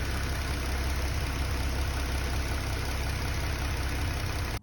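A Ford Mustang S197 idles close by with a freshly replaced battery, giving a steady, even low rumble that holds unchanged for several seconds with no voices over it.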